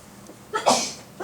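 A single sharp sneeze bursts out in a classroom during a math lesson, fairly close and loud, with a quieter room before it.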